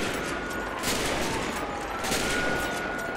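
Gunshots ring out in a shooter video game as a continuous, dense barrage of rapid fire that stays loud and steady throughout, with no voices over it.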